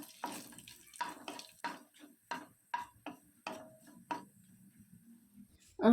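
Shallots and dried red chillies frying in hot oil sizzle in a run of short, uneven crackling bursts with brief quiet gaps between them, and a louder clatter comes right at the end.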